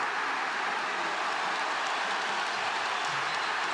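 Basketball arena crowd at a Bulls versus Pacers game roars in a sustained, loud, dense wash of cheering and noise, with no commentary over it.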